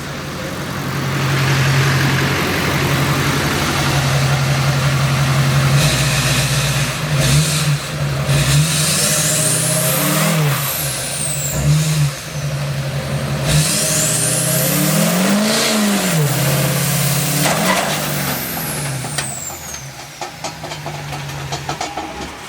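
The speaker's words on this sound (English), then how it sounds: "I'm going to kind of just give it a little gas and see what happens." A wide vehicle's engine eased into a little gas on a driveway, a steady idle rumble rising into gentle revving swells and dropping back, close and continuous for the whole stretch.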